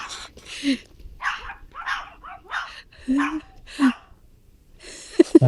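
A guard dog gives several short barks and yips at close range outdoors, spaced irregularly, with whimpering between them.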